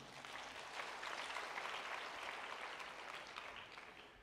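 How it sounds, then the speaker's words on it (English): Faint, steady clapping from a church audience continues evenly for a few seconds with no speech over it. "You can clap for Levi."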